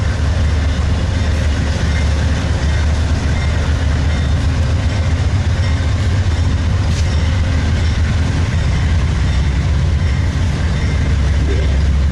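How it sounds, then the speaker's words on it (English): A passenger train, the Coast Starlight, rumbles past nearby in a continuous low roar with faint rail clatter, steady and loud throughout, no talking. "there's our train headed on north to Seattle"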